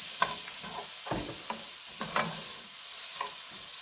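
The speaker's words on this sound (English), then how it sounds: "And to my butter, I'm going to add my chopped peppers and onion." Chopped peppers and onion sauté in melted butter, giving a soft, steady sizzle broken by several distinct scrapes and clatters of stirring close by.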